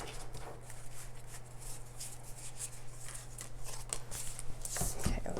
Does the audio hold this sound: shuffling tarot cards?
yes